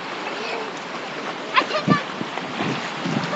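A child runs and splashes through shallow water on a North Carolina beach trip, with a few quick splashy bursts over steady surf and wind, and an adult's voice talking faintly nearby.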